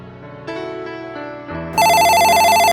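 Office telephone ringing in a Pakistani television drama, starting as layered electronic tones that build and end in a loud, rapid warbling ring, with no one speaking.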